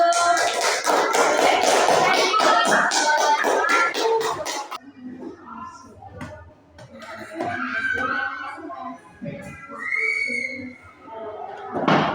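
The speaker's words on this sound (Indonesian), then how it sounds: "kita beri tepuk tangan dulu" A classroom group claps for a presenting team during a teachers' academic supervision session: a dense burst of close hand claps for about five seconds, then quieter scattered sounds as a voice speaks.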